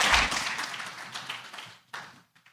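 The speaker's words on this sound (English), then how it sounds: "So please let us give them a round of applause" Workshop audience applauding its panelists, a dense burst of clapping that tapers off over a couple of seconds with a brief late flurry.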